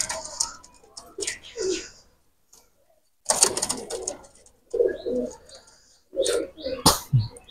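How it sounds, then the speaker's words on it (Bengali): Golden pigeons with bright red eyes coo in short soft bursts, several phrases spaced through the stretch, close by and moderately loud, with no speech over them. "এই আর এক পেয়ার স্কুলালে গোল্ডেন কবুতর দেখেন, চোখটা অনেক লাল, চরম কোয়ালিটি কবুতর"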